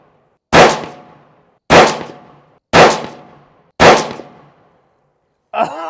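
Four sharp, loud suppressed rifle shots from a 6.5 Creedmoor Bergara BMP fitted with a Sandman L silencer, evenly spaced about a second apart, each decaying quickly, followed by a brief clank.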